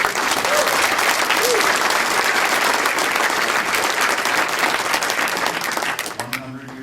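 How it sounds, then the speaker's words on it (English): Dense, sustained applause fills a town meeting hall for Catherine Tessie, even and continuous before fading out, with a voice starting to speak as it ends. "I think we can endorse that sentiment with a nice round of applause for Catherine Tessie"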